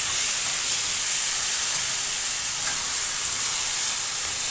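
Chicken shawarma pieces sizzling on a hot baking tray, a steady bright hiss that holds loud and even throughout, no voices.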